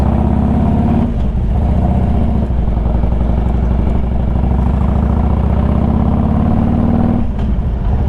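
Motorcycle riding through downtown Detroit, a loud, steady engine drone with a low pulsing throb and small shifts in pitch as the speed changes, no talk.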